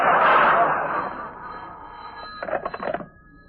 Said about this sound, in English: This phone call's for you, Jimmy